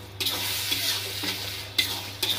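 Egg fried rice with vegetables being stir-fried in a pan, with a steady sizzle and repeated scraping stirs at an even rhythm, close and fairly loud, with no talk.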